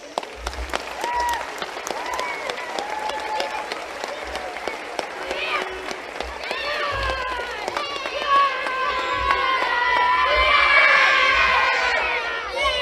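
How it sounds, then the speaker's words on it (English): A crowd at a Galway intermediate football final applauds and cheers for Kilconly, sustained clapping with children's shouts and whoops rising toward the end, close and loud. "big round of applause for Kilconly, please"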